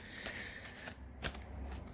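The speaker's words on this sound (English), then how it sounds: "I'm very aware of the shuffling" Tarot cards are shuffled in steady riffling bursts close to the mic, a continuous papery flutter with a sharper snap near the middle, and no one speaking.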